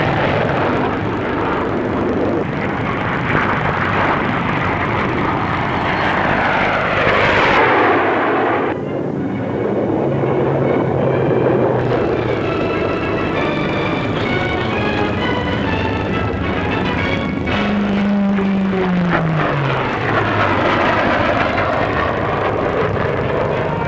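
Supermarine 508 naval fighter, a butterfly-tailed jet, roars loudly past at an air show, its engine noise sweeping and shifting in pitch with gunfire-like bursts mixed in; no talking.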